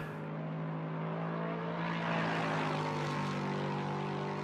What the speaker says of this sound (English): Oh, I do like the sounds in this game. The car sounds brilliant.